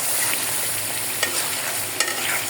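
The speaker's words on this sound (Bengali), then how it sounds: "আর এই যে এখানটাতে হচ্ছে আমি মশলাগুলো কষাইতেছি।" Spices stir-fried in a pan give a steady close sizzle with a couple of sharp scraping clicks from stirring, no voices.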